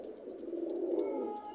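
Imported high-flying pigeons from a bloodline pair coo softly in a low, rolling, continuous murmur. The cooing is quiet and close, with no voices.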